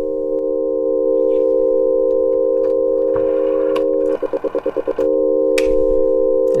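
A telephone sounds its tones together as an E flat 6 chord, a loud sustained buzzing tone held steady, briefly pulsing in quick regular stutters near the end, with faint handling clicks.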